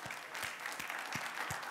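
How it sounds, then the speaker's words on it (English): A conference audience at a COP-22 ocean acidification panel applauds the moderator and panelists, sounding as faint, distant, even clapping with no talk over it. "Let's give our moderator and panel a round of applause."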